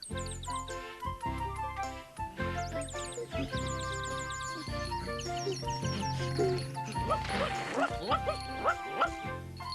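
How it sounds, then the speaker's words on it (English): Cartoon dog barking and yipping in a 1995 Noddy animated VHS, with several short yaps and whimpers mixed over a busy, playful musical score; speech sits in the mix. "You silly dog"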